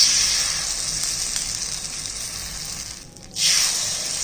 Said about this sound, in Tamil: பணியார மாவை இதில் ஊற்றிக்கிடுவோம்.